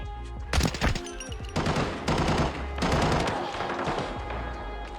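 MPX submachine gun firing rapidly in the Arena Breakout shooter, loud continuous full-auto bursts with brief gaps between strings of rapid shots at very close range.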